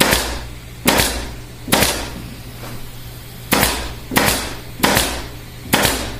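Upholstery tacks are hammered into the front rail of a wing chair being reupholstered, with about seven sharp, close metallic strikes at uneven intervals and short pauses between them.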